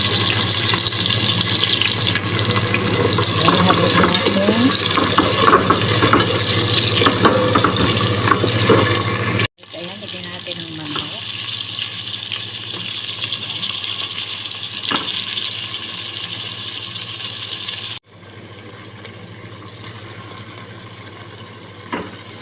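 Onion and garlic fry loudly in a hot pan with a steady, dense sizzle; the sound drops abruptly twice to a quieter crackle.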